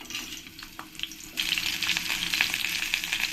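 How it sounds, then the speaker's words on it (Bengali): Whole pointed gourds (parwal) frying in hot oil, a hissing sizzle that jumps louder partway through and stays dense and crackling, close with occasional stirring taps. "এবার আমি পটলগুলো দিয়ে ভালো করে একটু ফ্রাই করে নেবো"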